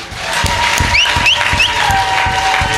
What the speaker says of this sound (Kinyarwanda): katwongerera imana amashyi menshi cyane